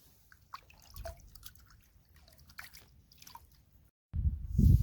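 Soft dripping and small liquid sloshes in a plastic bucket holding nine litres of water, then a louder burst of splashing water near the end, close by.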